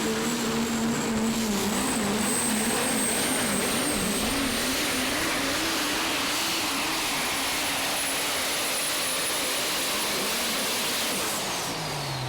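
A pulling truck's engine roars loud and steady at a truck pull competition, a continuous sustained drone with a high whine rising and holding above it throughout.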